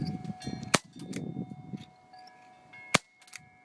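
CO2 airsoft gun firing .15 gram BBs: two sharp, loud pops about two seconds apart, each with a short metallic ring, amid quiet background.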